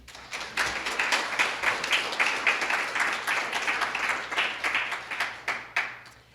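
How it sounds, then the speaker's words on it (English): A graduation audience for a leadership program claps, producing a lively, rippling round of applause with distinct sharp hand claps standing out as it gradually thins toward the end. "Please give them a round of applause."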